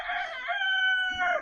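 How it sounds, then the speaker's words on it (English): A rooster crows once on a farm, a long, loud, close call with a rising then sustained harmonic cry, heard alone without talk. "That rooster is annoying."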